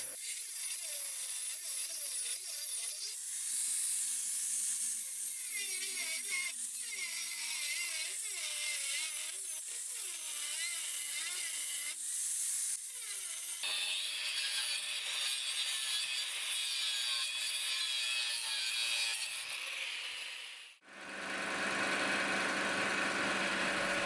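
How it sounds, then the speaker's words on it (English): Angle grinder fitted with a cutoff wheel slicing into a copper canister packed with cable, a steady loud abrasive whine with shifting pitch, then a brief break before a harsher, brighter cutting sound resumes near the end. "So that's what we're going to do right here with the cutoff wheel and the angle grinder."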